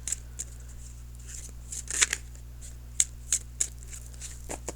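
Tarot cards are shuffled in a few brief, crisp bursts of riffling and snapping, close and quiet over a low electrical hum.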